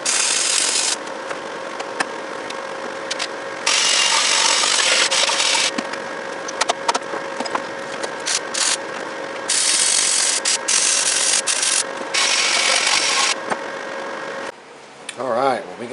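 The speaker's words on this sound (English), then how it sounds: "Let's get the welder out," A welder tacking and welding the axle of a lowered, pulley-swapped MTD race mower, a loud steady crackling buzz in long runs with short breaks, sounding close and harsh throughout.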